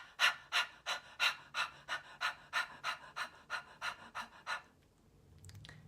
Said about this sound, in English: breathing out in short pants through the mouth